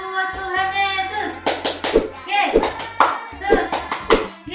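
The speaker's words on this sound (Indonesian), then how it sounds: "Tepuk tangan buat Tuhan Yesus." Children and an adult clapping hands in rhythm during a Sunday school worship service, sharp claps in a steady beat alongside singing voices.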